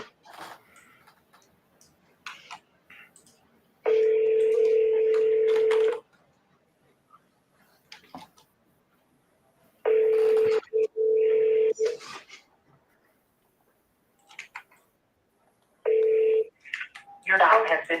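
Repeated steady phone ringback tones on an outgoing call, three long rings separated by silence, near and clear, with brief talk and clicks between them.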